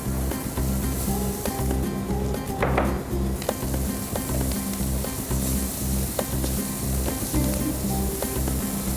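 Green chilies sizzle and fry in a pan of pineapple fried rice, a loud continuous hiss close up with scraping stir strokes and a brief clatter of a utensil.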